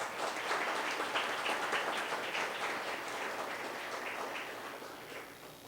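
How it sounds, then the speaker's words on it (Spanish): An audience at a book launch applauds two brothers, a steady wash of many clapping hands heard from a distance, fairly faint and continuous. "Yo pido un aplauso para ellos."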